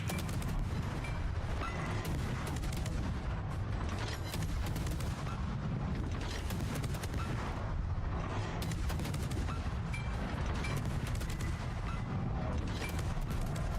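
Continuous rumbling booms and blasts from mines detonating in Civilization VI, dense overlapping explosions with crackling mechanical clatter running throughout without pause.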